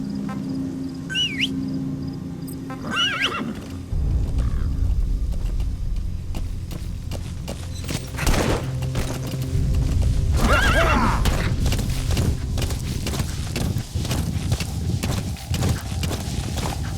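In the video game Metal Gear Solid V, a horse neighs loudly several times over the steady clip-clop of hooves, with other game sounds mixed in and no talking.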